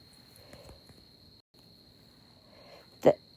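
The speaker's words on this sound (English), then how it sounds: "I'm sitting outside listening to the crickets." Crickets chirping outdoors at night produce a thin, steady, high-pitched trill that is faint and continuous, with a brief gap midway and a single sharp close knock near the end.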